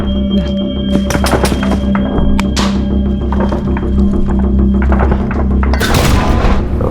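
Grenade explosion during combat while a brigade holds a dugout in heavy fighting around Avdiivka, heard as loud booms and sharp thuds over a constant dense rumble, with crackling bursts of gunfire toward the end.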